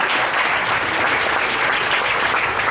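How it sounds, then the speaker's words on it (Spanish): A church congregation claps steadily and loudly in a dense, even wash of applause with no gaps. "Dale un aplauso grande al Señor"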